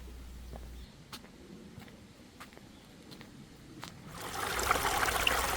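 A valley stream runs beside a spring mountain road leading to Munsusa temple, its water trickling softly and steadily at a distance, with a few faint sharp knocks early on and the flow swelling louder toward the end.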